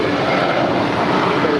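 An Air France Boeing 777-200ER taxiing at LAX gives a steady, loud roar of jet engines that stays constant and close throughout the short stretch.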